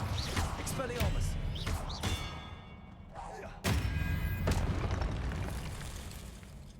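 An Expelliarmus spell cast in Hogwarts Legacy lands as a series of sharp thumps and booming impacts with crackling bursts. The hits come at irregular intervals over continuous game noise.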